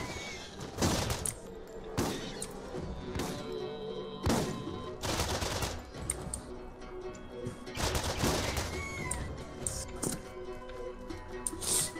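Shotgun blasts in the video game Borderlands, a series of sharp booming shots spaced irregularly over steady game background sound, fairly faint overall.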